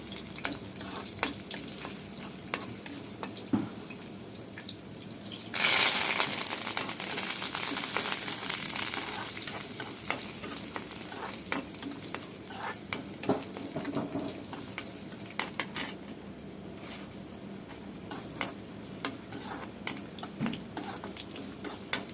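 Garlic and fenugreek seeds fry in hot oil as a tempering for mango dal, making a continuous soft hiss that swells suddenly around the six-second mark and then settles into steady sizzling with faint scattered crackles.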